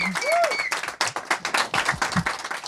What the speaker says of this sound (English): yes, applause please